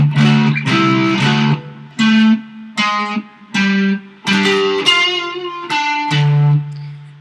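Distorted electric guitar plays a riff, a run of separate picked notes in an uneven rhythm, loud and close with no talk.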